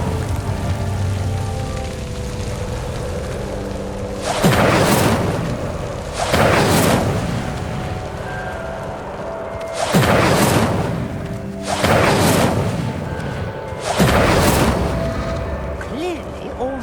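Incendio fire spells igniting pyres in a video game: four or five crackling, whooshing bursts at a roughly steady pace over a low ambient bed, each bright and short.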